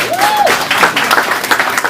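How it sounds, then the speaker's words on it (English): Audience applause at a panel of women at a vegan festival in Adelaide, welcoming a new panelist; dense, steady clapping from a crowd, with a brief voice tone near the start. "Give her a round of applause"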